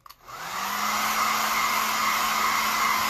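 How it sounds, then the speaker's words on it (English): A hair dryer switches on after a brief click and keeps blowing with a steady, loud whooshing hum and a faint motor whine. "I'm going to turn on my little hair dryer real quick"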